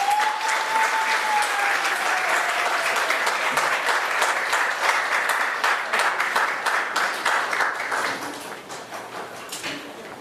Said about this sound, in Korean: 저희 큰 박수를 한번 해해 볼게요